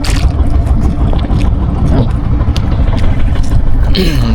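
A motorboat engine runs steadily and fairly loud on the water throughout, a continuous drone with wind noise and voices talking over it.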